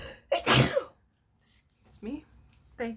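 A single sharp, breathy sneeze bursts out near the start, followed by quiet murmured speech and a short throat-clearing sound.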